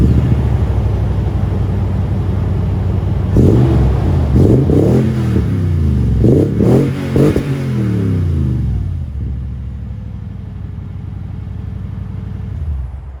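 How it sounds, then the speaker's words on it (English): A 2020 Toyota Tundra TRD Pro pickup's V8 cranks over after a few seconds, then barks through a series of loud, deep revs before dropping back to a steady, low idle, with no one talking. "I love how old school V8 this truck sounds."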